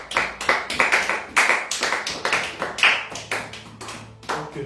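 Rhythmic clapping in a French-speaking church service praising the Lord, sharp claps in a roughly steady beat, moderately close and alone without voices.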